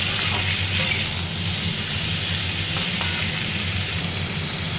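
Young jackfruit pieces fry steadily in a pan, giving a dense, continuous sizzle at close range with no talking over it.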